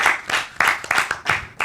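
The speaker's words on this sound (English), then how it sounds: "Let's give Dr. Mohamed a round of applause." Studio audience applauding a guest doctor on a Caribbean health show, clapping in loud uneven bursts that swell and dip over a short stretch.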